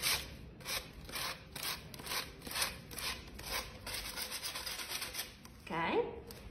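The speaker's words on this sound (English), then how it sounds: "I'm using 100 grit piece of sandpaper and I'm sanding to emphasize the detail on the pot" A painted flower pot is hand-sanded with 100 grit sandpaper along its crevices, giving rapid rhythmic rasping strokes that repeat closely for several seconds, followed by a brief bump near the end.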